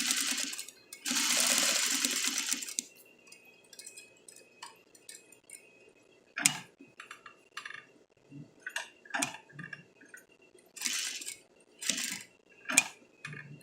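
A sewing machine stitching a single welt pocket: an opening whirring run of quick stitches, then a scatter of short bursts and light clicks from the needle and presser foot, close and fairly quiet.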